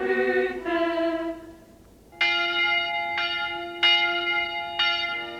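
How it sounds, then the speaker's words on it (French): A church bell rings out on a Sunday in Canaan, calling the villagers to worship: sustained, resonant tolls repeat at a slow, steady pace, loud and close with long ringing decay and no voices. "La cloche appelle les habitants de Canaan à l'église."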